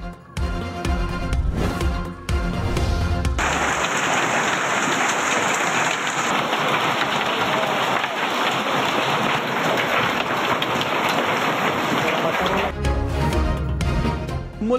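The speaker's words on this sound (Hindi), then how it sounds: "इस्लामाबाद में मुसलसल दूसरे रोज बारिश।" Steady, dense rain falls continuously during a second straight day of wet weather in Islamabad, a loud broadband hiss that holds at an even level for most of the stretch, with no voices.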